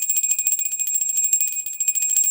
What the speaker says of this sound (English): we cleanse the space with the bell